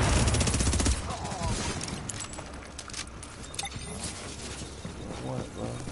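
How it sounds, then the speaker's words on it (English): Gunfire in The Division video game crackles as a dense burst at first, then scattered shots and clatter continue under someone talking. "Seems like everybody's shooting."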